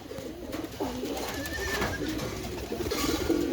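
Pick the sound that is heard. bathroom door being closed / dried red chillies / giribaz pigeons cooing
giribaz pigeons cooing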